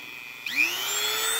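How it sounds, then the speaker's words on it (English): Dremel rotary tool with a small round cutting head starting up for hand carving on a taxidermy shoulder mount, a high whine rising quickly to a steady pitch, close and continuous. "I just hand carve this with my Dremel."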